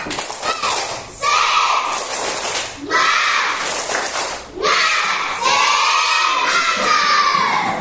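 Children in a classroom do a rhythmic spirit clap chant in repeated loud bursts of clapping and shouted chanting, with short pauses between rounds.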